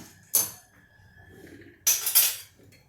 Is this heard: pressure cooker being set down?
yes